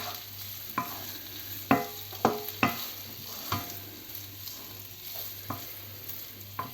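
Carbonara sauce with salt, pepper and pecorino cooks gently in a pan. A faint, low sizzle sits under a series of scattered spoon clicks and taps against the pan.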